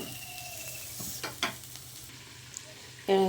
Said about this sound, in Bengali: এখানে আমি পেঁয়াজটাকে ভালো করে ভেজে নেব।